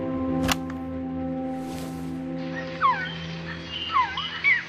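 Recorded jungle bird call from the Metal Gear Solid Peace Walker video game: a series of quick, sweeping chirps and warbles rises over a steady electronic drone after a couple of sharp clicks, clear and fairly close.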